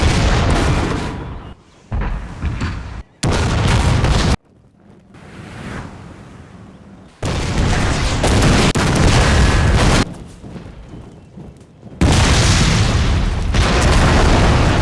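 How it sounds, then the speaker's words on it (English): Heavy cannon fire from Russian artillery batteries in a Total War battle, loud booming blasts in abrupt sections with rumbling, windy roar between them, no talking. "The Russian batteries greeted these new arrivals with heavy cannon fire."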